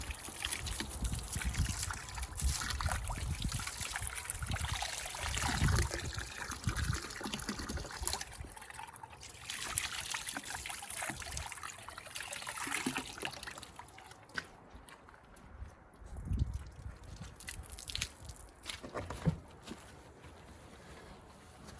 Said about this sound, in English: the next step, I will rinse it off and then put it in a cooler with ice and water.